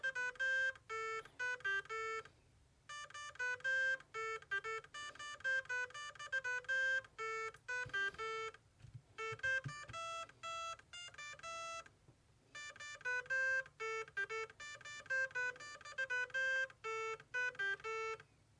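A Perun V2 ETU trigger unit in an Arcturus airsoft rifle plays a hidden tune as a series of quick electronic beeps, a chirpy melody in bursts separated by short pauses, faint and clean.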